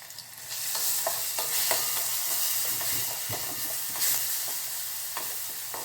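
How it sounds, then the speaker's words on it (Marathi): Ginger, garlic and green chili paste with turmeric frying in hot oil in a pot, a steady close sizzling hiss with faint crackles and light stirring throughout. "इथे एका भांड्यात मी तेल घेतले. तेल गरम झालं आहे. त्यात आपण आलं लसूण आणि मिरचीची जी पेस्ट केली ती घालूया."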